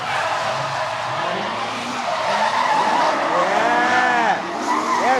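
A static, low-riding Toyota JZX drift car slides hard with loud, continuous tire squeal rising in pitch, engine roar beneath, close by at a drift event in Australia.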